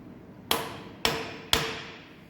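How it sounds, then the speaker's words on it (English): A hammer gives a milling vise three gentle, evenly spaced metallic taps, each a sharp close strike with a short ringing decay in a quiet workshop. "I'm going to tap the vise gently,"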